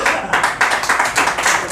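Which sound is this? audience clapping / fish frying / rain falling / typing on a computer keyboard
audience clapping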